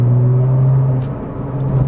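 Flat-six engine of a Porsche GT2 on the road, a smooth, steady low drone heard from inside the car that dips slightly midway and then swells again.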